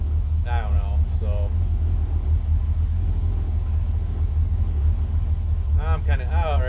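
A 1963 Ford Falcon fitted with a turbocharged 2.3L engine idles in a steady low rumble close by, with someone talking over it now and then.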